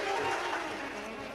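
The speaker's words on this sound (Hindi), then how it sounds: "एक बार जोरदार ताली बजाकर स्वागत।" Audience applause breaking out as a welcome at a Shiv Mahapuran katha in Sehore, Madhya Pradesh: steady, dense clapping from a large crowd, sustained and fairly loud throughout the brief moment.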